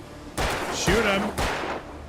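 Gunfire from the PC video game Alan Wake: two heavy blasts with a dense, noisy burst between them, loud and close, with a tonal in-game sound rising through the middle.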